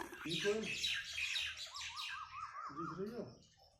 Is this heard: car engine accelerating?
no